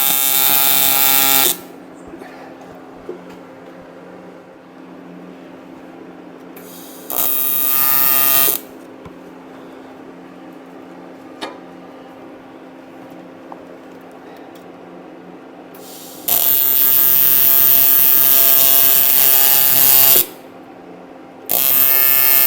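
A TIG welder working on a Peterbilt 359 restoration gives several loud, harsh electric buzzing bursts lasting a few seconds each. Near-silent gaps with faint ticks fall between them, and no one speaks.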